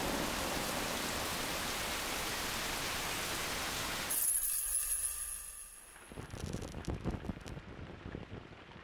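Heavy rain falls in a dense, steady hiss that cuts off abruptly, giving way to quieter dripping and scattered patter, with no voices.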